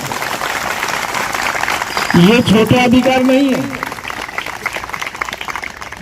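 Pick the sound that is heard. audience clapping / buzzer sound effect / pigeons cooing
audience clapping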